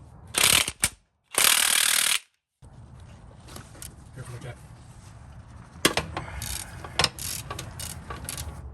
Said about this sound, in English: So I had to break it free with a 1/2-inch drive ratchet.